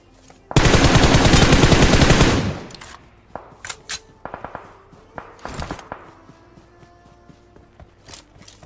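Rapid automatic gunfire in a mobile shooter game blasts loud for about two seconds, followed by scattered single shots, footsteps and shuffling movement at lower level.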